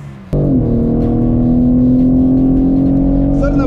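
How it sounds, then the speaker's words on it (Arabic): A 2021 BMW M3 with loud exhaust mode on fires up abruptly and holds a loud, sustained rev near 7000 rpm, a strong steady droning note heard close and alone. "قبل ما ننطلق رح نحط لاود اكزوست واسمعوا معي صوت السيمفونيه الرائعه"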